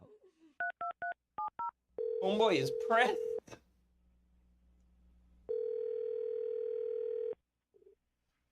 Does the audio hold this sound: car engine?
no